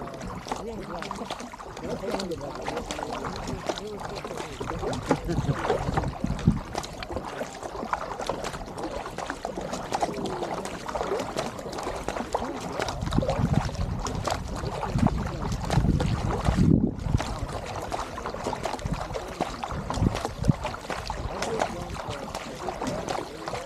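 A boat moving through water ahead of a race, leaving a wake, with a steady rushing of water and wind buffeting the microphone, and people talking in the background.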